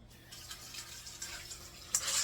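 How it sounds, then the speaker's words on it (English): White beans are rinsed under a running tap, a faint, close trickle and patter of water with small splashes and a sharper spray near the end. "I'm gonna wash these beans here."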